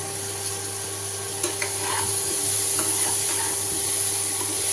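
Boiled soya chunks are stirred in a pan with a split red chilli for soya pulao, giving a faint sizzle with soft scraping and occasional clinks over a constant low hum.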